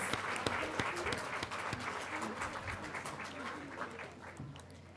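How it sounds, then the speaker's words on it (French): An audience of children applauding, dense rapid clapping from many small hands that starts strong and gradually thins, heard indoors at moderate distance with no clear speech over it. "je vais vous donner une main d'applaudissement parce que je suis vraiment très fière de vous"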